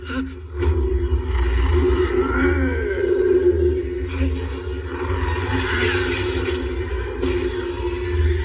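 A deep, rumbling growl from a monster in an English-dubbed anime, sustained and loud with rough throaty texture and echoing roars, set against a storm.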